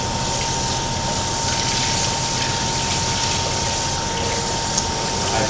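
Hot liquid is poured into a Fast Slow Pro pressure cooker holding basmati rice, producing a steady, close gushing stream that runs unbroken for several seconds without speech.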